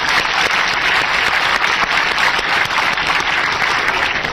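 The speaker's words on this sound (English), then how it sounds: "Let's give her a big round of applause" Steady, dense applause from an audience at a real estate investment seminar, loud and continuous throughout without a break.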